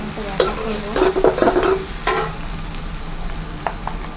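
Whole spices such as cinnamon and cardamom fry in oil and are stirred briskly, giving a close sizzle broken by sharp scraping strokes in the first half before settling to a softer fry.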